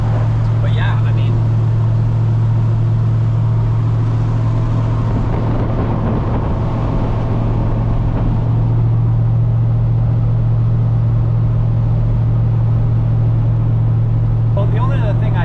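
A carbureted Ford Fox-body car cruises at about 60 mph with the windows down, its engine drone steady and loud throughout alongside road and wind noise, with a person talking over it.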